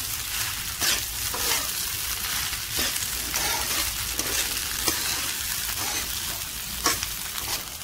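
Sabudana khichdi sizzling and frying in a pan while being stirred, with steady crackle and repeated scraping strokes of a spoon turning it over, close and fairly loud with no voices.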